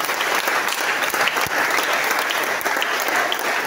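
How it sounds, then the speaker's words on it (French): A church congregation applauding during a French-language service, dense continuous clapping from many hands filling the room, steady and loud throughout with no break. "acclame Dieu qui va te faire Dieu ce soir"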